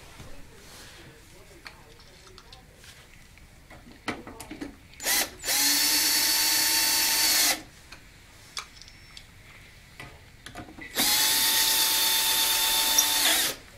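A power drill whirs loudly in two sustained bursts of about two seconds each, separated by clicks, handling noises and quieter gaps.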